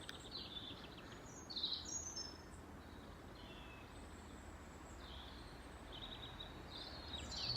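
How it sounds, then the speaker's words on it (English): Birds chirp and tweet faintly in the distance over a constant low rumble of traffic, with a few brief calls standing out. "Don't listen to the traffic, just listen to the birds"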